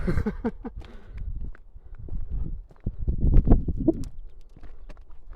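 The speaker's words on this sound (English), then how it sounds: "Okay, yeah, they're definitely cows." Irregular hoof-like thuds and shuffling from young cows moving close by, with occasional soft clicks and faint bird calls in the background.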